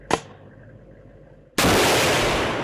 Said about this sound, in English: it's such a loud boom that on my first shot, it caused me to flinch a little bit